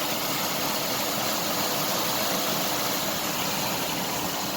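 A rebuilt 2005 Mazda Tribute engine idles smoothly, a close, steady, even rumble with no breaks or changes and no talking.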